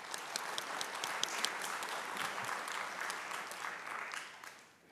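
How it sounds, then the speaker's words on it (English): Audience applause closing a conference event on economic growth, a steady wash of many hands clapping at moderate distance that fades out near the end. "and I think that deserves a round of applause"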